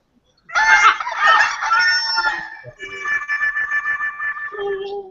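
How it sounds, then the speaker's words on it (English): A rooster-crow buzzer goes off during a live quiz, a loud recorded cock-a-doodle-doo followed by clucking calls that stretch out over several seconds. "That was cock-a-doodle-doo, Keith."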